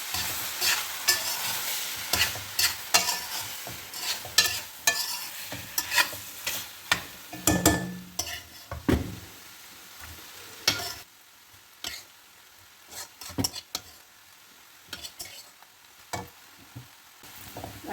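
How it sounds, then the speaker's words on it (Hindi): Chicken vermicelli (seviyan) with vegetables being stirred and scraped in a pan, steady clattering spoon strokes over a soft sizzle, loud and close, no voices. "उनको अच्छी तरह मिक्स करने लगी हूँ।"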